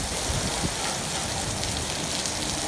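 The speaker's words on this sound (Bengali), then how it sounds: "দেখতে কীরকম বৃষ্টি, অনেক বছর পরে এরকম বৃষ্টি কাতারে" Heavy rain in Qatar, a dense, steady hiss of drops pounding a hard surface nearby, constant and loud throughout with no voices.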